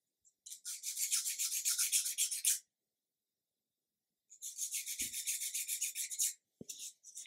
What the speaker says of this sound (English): sanding block over the top and just make sure we're totally smooth